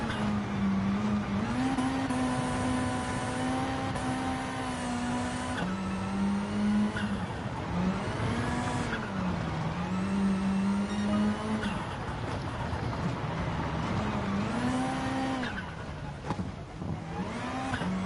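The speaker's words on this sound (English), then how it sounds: "I can absolutely boot the throttle with the opposite lock and around the corner it goes" Rally car in Gran Turismo Sport held sideways with the throttle booted and opposite lock applied: a loud, sustained engine drone rises and falls through repeated revs, with a steady gravelly roar beneath.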